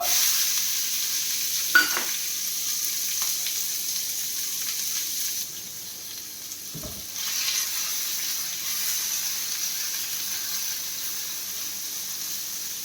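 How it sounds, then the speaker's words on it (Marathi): Onion dropped into hot oil on a cast-iron tawa that is being seasoned gives a soft continuous sizzle, with a few clinks and a brief scrape, faint and steady, without any talk. "चला तेल बऱ्यापैकी गरम झालेलं आहे त्याच्यामध्ये मी कांदा टाकून घेते"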